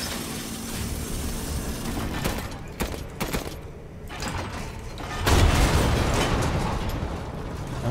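Tank machine gun and cannons firing during a boss fight in Resident Evil Village, a dense, continuous barrage of gunfire and mechanical clatter with heavier booming blasts swelling near the end, all loud and close.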